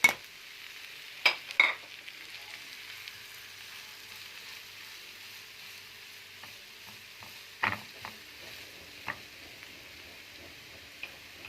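Onion and soy mince fry in a pan with a faint, steady sizzle, broken by occasional scrapes and clicks of a utensil stirring, with no voices.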